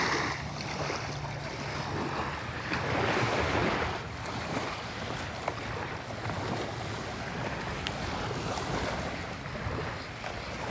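Sea waves washing onto the beach at Oroklini, Cyprus, a steady surf roar that swells and eases, with wind buffeting the microphone and no voices.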